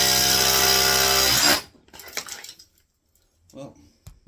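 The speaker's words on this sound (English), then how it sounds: "So I'm just gonna drill a hole first, just to make sure I'm in the right spot." Power drill boring a hole into a wood burning stove: a loud, steady whirring grind for about a second and a half, then it stops, followed by quiet shuffling and faint clinks.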